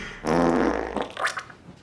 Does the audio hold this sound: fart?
yes